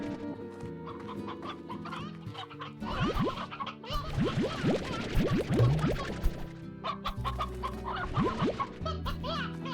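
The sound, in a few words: chickens clucking in Slime Rancher video game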